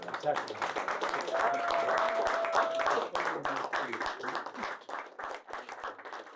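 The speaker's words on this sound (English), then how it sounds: "But we all give Dr. Starkey a huge round of applause." Audience applause at the close of a lecture on conservatism, steady broadband clapping filling the room for several seconds, thinning toward the end with scattered claps while voices murmur underneath.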